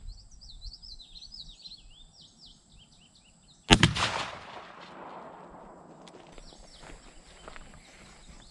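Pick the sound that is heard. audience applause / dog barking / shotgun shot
shotgun shot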